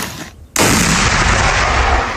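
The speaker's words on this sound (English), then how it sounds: "The enemy uses constant artillery and mortar fire." Artillery and mortar fire on a Ukrainian front line: after a brief lull, a single loud, close blast erupts and its broad roar rolls on without fading for the rest of the stretch, with no voices.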